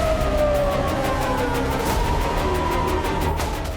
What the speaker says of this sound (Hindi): एयर रेड अलर्ट के सायरन गूंजने लगे